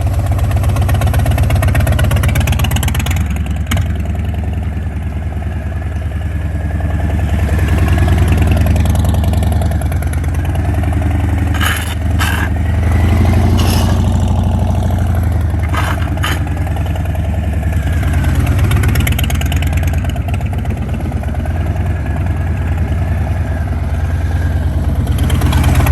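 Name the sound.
motorcycle engine running while riding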